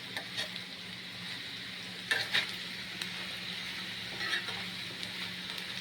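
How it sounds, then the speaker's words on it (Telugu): Steady sizzling of potato curry frying in a pan, with a few brief scraping bursts as it's stirred; moderately quiet, no talking. "కూర మాడిపోతుంది చూడు ఒకసారి తిప్పొస్తాం"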